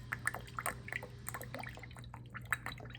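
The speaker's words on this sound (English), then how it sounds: "That actually pours out pretty fast, doesn't it?" Worcestershire sauce pours quickly into a measuring cup for a steak marinade, a quiet liquid trickle with small drips and splashes over a low steady background hum.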